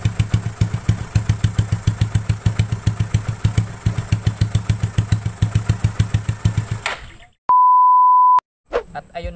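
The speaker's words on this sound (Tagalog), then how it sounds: "narinig nyo naman ang soundcheck ng open pipe natin" A Yamaha Mio Sporty motorcycle with an open pipe exhaust runs close by, a steady pulsing engine note that cuts off abruptly, followed by a single electronic beep.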